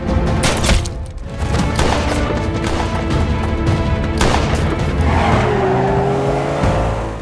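A getaway car speeds off during a shootout in an action movie, its engine roaring loud and close with squealing tires and sharp bangs, the roar sweeping past near the end.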